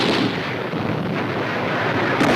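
Heavy artillery and gunfire roar through a WWII South Pacific jungle battle, a dense, continuous barrage of booms and blasts with no gaps, loud and close throughout.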